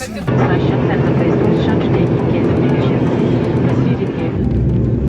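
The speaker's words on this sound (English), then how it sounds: "We then reverse thrusted out of the parking bay" A charter holiday airliner reversing out of its parking bay under reverse thrust gives a loud, steady jet-engine roar that fills the cabin and holds constant from start to finish.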